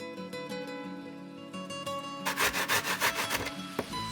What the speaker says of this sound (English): So I'm going to grate the carrots now